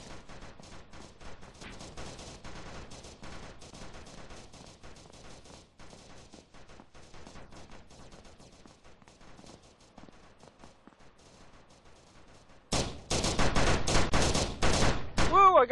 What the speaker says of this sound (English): Why are you shooting down there?